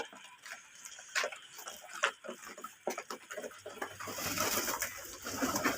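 Domestic pigeons in a coop on a small farm, with scattered soft calls and coos, light ticking and fluttering sounds, and steady background noise that grows busier toward the end.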